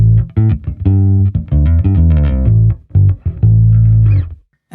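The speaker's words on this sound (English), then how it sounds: "Now for comparison, I'm going to disengage the cap simulation" Passive bass guitar through a Microtubes 900 v2 amp with cab simulation switched off, a short burst of brighter, open-sounding notes with strong low end and a held final note, loud, no voices.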